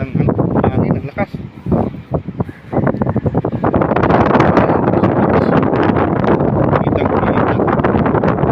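Strong wind buffets the microphone in a loud, continuous roar, rising after a stretch of voices talking near the start.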